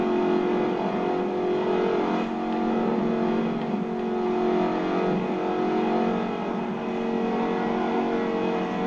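A Jaguar F-Type Project 7 in Forza Horizon 4 runs with a loud, sustained engine drone, holding revs steadily throughout with slight swells, and no one speaking.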